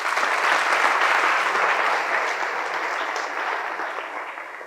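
Audience at a school career-counselling seminar claps together in a sustained, dense burst of applause that holds steady for several seconds before tapering slightly, with no talking over it.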